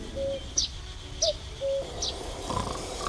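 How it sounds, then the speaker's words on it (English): In the video game The Night of the Rabbit, a cuckoo calls in short two-note phrases, repeated several times, amid high bird chirps and a soft ambient forest bed. "A cuckoo. It sounds so."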